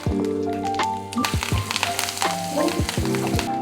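Peanuts, dried red chillies, turmeric and curry leaves crackle and sizzle steadily in hot tempering oil for temple-style puliyogare gojju, a dense close popping spatter with no talk.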